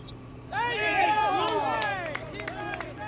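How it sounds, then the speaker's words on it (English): A small crowd erupts in excited overlapping cheers, whoops and chatter, swelling quickly and then tapering into scattered voices and a few claps. "After the crowd noise"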